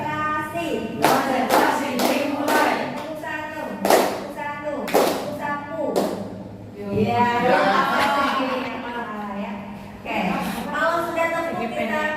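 Children in a classroom play a clapping game of single and double claps, sharp group claps in distinct rounds separated by pauses, with a teacher's voice and chatter in between.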